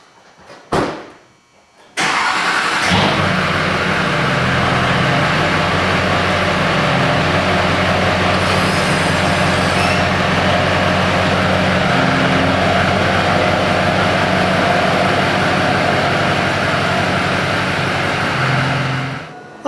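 A car starting and driving on a test drive, with a brief start-up burst followed by a steady, loud engine hum and road noise rumbling continuously, no talking.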